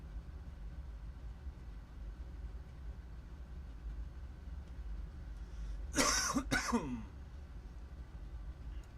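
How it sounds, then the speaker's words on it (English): A short burst of harsh coughing from smoking cannabis, two or three rough hacks close to the mic, over a steady low background rumble. "That's why I'm coughing."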